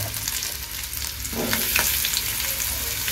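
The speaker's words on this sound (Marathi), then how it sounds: "कांदा थोडं ब्राऊन होईपर्यंत भाजून घ्यायचा आहे ना?" Onion and green chillies frying in a little oil in a home kitchen, a close, dense sizzle that grows slightly louder midway with light stirring, no voices.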